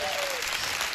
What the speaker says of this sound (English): there he is on stage getting a standing ovation from the Silicon Valley crowd